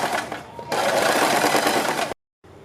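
A sewing machine stitches around a kurti neckline along buckram, a loud close whirring run lasting about two seconds before stopping abruptly.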